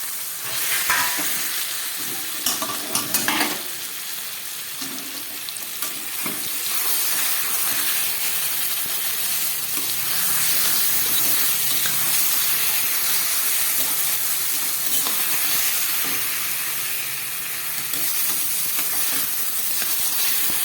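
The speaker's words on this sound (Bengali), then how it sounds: "ইলিশ মাছের মাথা দিয়ে কচুর শাক রান্না করছি" Hilsa fish head and taro greens cooking in a pan over low gas, a steady close sizzle and bubbling with occasional stirring clinks and scrapes early on.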